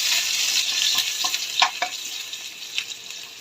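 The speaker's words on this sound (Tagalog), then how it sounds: "Dito ko na igigisa yung mga ricado." Garlic and onion sauté in rendered pork fat for adobong sitaw: a bright continuous sizzle is broken by several clinking spatula strokes against the pan, with no talking.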